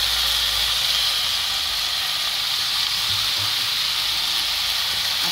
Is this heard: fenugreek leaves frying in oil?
yes